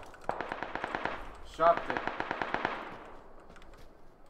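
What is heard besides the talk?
gunfire in PUBG video game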